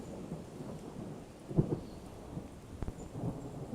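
Thunder rumbles through a thunderstorm with steady rain, a dull low roll swelling briefly in the middle before easing back into the wash of rainfall.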